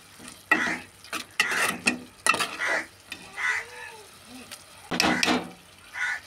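Thick tomato curry stirred in a pot just after chili powder goes in, with a spoon scraping in irregular bursts, a soft sizzle between strokes and a few brief murmurs.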